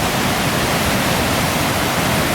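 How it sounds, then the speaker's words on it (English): The Slate River rushing near Silver River Falls in Skanee, a dense, steady roar of water filling the sound close by and loud, unbroken for the whole stretch with no voices. "Slate River is curving around."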